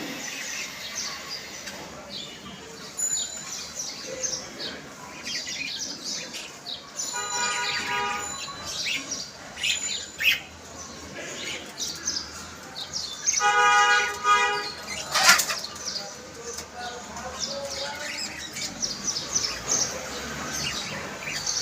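Small birds in a balcony aviary shared with chickens chirp and tweet in scattered bursts, some calls sharper and louder, over a quiet background.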